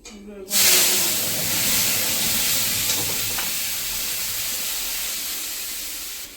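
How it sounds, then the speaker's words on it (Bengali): Ground cumin, turmeric and chili powders frying in hot oil, a loud steady sizzle and hiss that erupts as they hit the pan and continues with faint stirring, while a voice speaks softly underneath. "তেল গরম হয়ে গেছে, এখন মশলাগুলো কষিয়ে নেব।"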